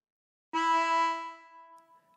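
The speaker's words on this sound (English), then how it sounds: "Blow into 2." A lone harmonica blow note on hole 2 from the Star Spangled Banner tune enters abruptly with a rich reedy buzz, holds and then tapers off over about a second and a half.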